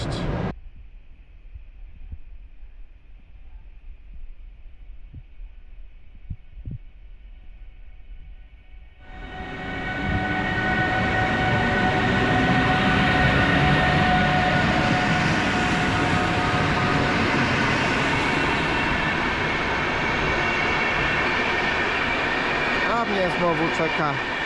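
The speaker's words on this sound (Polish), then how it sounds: "Skład wjeżdża na tor trzeci przy peronie siódmym." Quiet station ambience gives way to a train rolling in, a loud, steady rumble and rattle that fills the rest of the clip.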